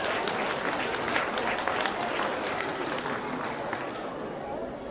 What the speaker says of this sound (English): So please give the organizing committee another round of applause,